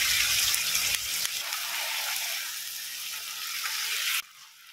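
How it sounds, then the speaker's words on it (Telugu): Chicken pieces fry with onions, garlic paste and turmeric in a pan for gongura chicken, giving a steady close sizzle that softens slightly midway and drops abruptly near the end. "దీంట్లో చికెన్ వేసేద్దామండి. ఆనియన్స్తో చికెన్ కూడా అవుతూ ఉంటుంది."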